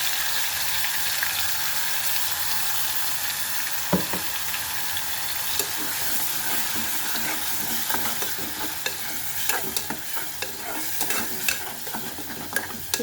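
A ground masala gravy with cumin, fenugreek and curry leaves fries in oil in a pan, giving a loud, steady sizzle with frequent scraping and clinking stirs that build toward the end.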